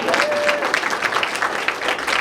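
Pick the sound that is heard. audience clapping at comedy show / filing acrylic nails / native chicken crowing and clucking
audience clapping at comedy show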